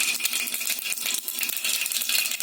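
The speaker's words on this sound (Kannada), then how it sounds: "ಸಾಸಿವೆ ಸಿಡಿತಾ ಇದೆ" Mustard seeds splutter and pop in hot oil for tempering, a dense run of small crackles and sharp ticks close by, with no talking.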